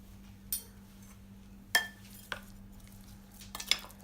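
Eggplant bharit with salt and coconut milk being stirred in a pot, with a few sharp spoon clinks and scrapes against the metal spaced irregularly over a quiet low hum.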